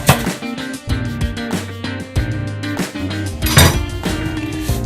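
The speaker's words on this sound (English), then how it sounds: "now you want to take our celery, and we're just going to just chop it up" Celery being chopped for beef bone broth, a run of sharp, repeated knife knocks on a board with clinking, near and loud, alongside background music.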